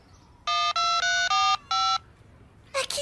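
Mobile phone keypad tones beep in a quick run of about five steady electronic notes as a text message is typed, close and clear, followed by a brief burst of further tones.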